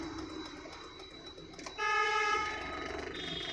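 A car horn honks once, a loud sustained toot of about half a second, on a road during a driving lesson in a car creeping in first gear past a cyclist; engine and road noise carry on around it.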